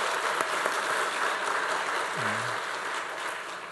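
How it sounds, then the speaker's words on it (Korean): Church congregation applauding during a youth praise service, a steady, dense wash of clapping that fills the whole space from start to finish without a break. "우리 다시 한번 박수 한번 부탁드립니다"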